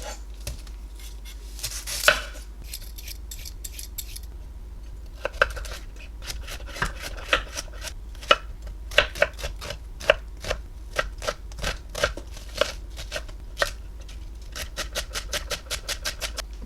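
A knife chops carrots, onion and celery on a cutting board for a lentil shepherd's pie, with sparse cuts at first building to quick, irregular bursts of close, crisp taps and scrapes.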